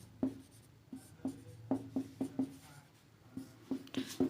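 Chalk strikes a blackboard in a physics lesson, producing crisp knocking taps in uneven bursts, some in quick clusters, close and distinct against a quiet room with no talking.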